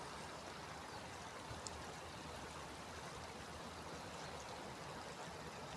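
Faint, continuous rushing of water flowing along Karınca Creek in Burhaniye, Turkey, a steady babble with no voices.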